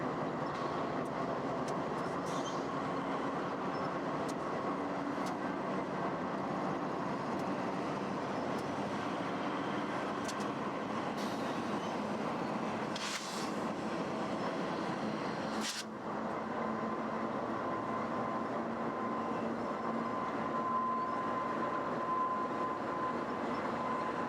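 A Union Pacific coal train on Colorado's Joint Line, hauled by 2,000-horsepower GP38-2 diesel locomotives, makes a continuous, fairly distant rumble and drone with a faint steady tone and occasional clanks, lasting over twenty seconds without voices.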